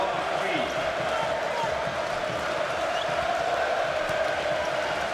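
A packed basketball arena crowd at the Greece versus Germany EuroBasket 2005 final roars in a steady, dense wash of noise, with a commentator talking over it.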